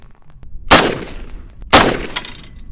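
Two loud, sharp rifle shots from a Springfield M1A .308 battle rifle fired at a 100-yard range, each a close crack followed by a ringing echo tail, about a second apart, with no talking.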